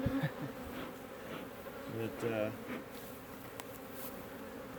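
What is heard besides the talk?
killer bees buzzing in a top bar hive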